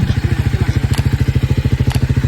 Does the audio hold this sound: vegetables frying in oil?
no